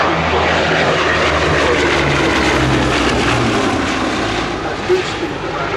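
Twin piston engines of a Bristol Blenheim fighter drone loudly and steadily at the Shuttleworth vintage airshow, a continuous close roar with low propeller throb that holds throughout.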